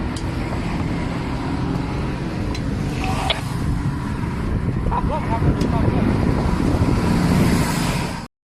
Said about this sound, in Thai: ตอนนี้ เรา ใช้ปั๊มลมนะครับ โดยการพ่วงไฟจากใช้ไฟจากแบตเตอรี่รถยนต์ครับ